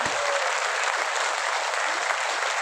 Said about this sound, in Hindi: दोनों हाथ ऊपर करके एक बार दिल खोल के तालियां बजाएंगे।